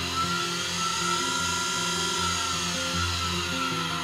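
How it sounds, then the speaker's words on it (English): An Axminster AC355WL woodturning lathe with a brushless DC motor runs steadily, a continuous high electronic whine over a low hum with faint shifts in pitch, no voices. "We'll put the lathe on, we've got our dial"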